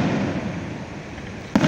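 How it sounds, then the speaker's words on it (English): Fireworks at a town jazz festival sound as a steady, distant crackling rumble, then one sharper, louder burst near the end, with no voices. "Right now she's videoing fireworks"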